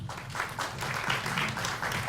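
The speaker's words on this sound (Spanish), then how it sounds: "Recibamos, por favor, con un aplauso" Audience applause welcoming a speaker at an arts education congress panel, a steady wash of clapping from a crowd, moderately loud and continuous with no talk over it.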